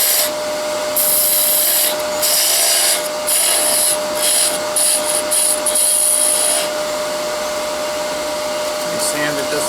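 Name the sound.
sanding a wooden Christmas ornament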